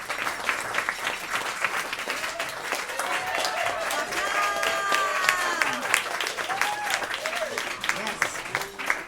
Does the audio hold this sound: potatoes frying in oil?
no